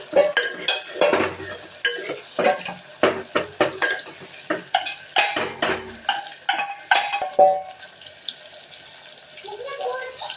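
Green chillies and tomato are stirred in a cooking pan, with a spoon scraping the metal in close, rhythmic strokes at a steady pace.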